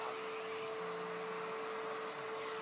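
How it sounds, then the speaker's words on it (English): A vacuum cleaner runs on a dog, a steady, even whine with a strong constant tone, close and moderately loud with no voices. "Look what happens when you vacuum the dog."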